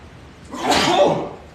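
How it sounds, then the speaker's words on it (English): A single close, loud human sneeze, a short breathy burst that swells and fades over about a second, heard alone in a quiet room. "And that was a sneeze. That's my sneeze."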